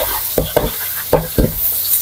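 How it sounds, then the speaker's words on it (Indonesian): Small anchovies frying in hot oil crackle with a steady sizzle, broken by four sharp, loud pops in two quick pairs, close up with no talking. "Karena dia meletup-meletup kayak gitu."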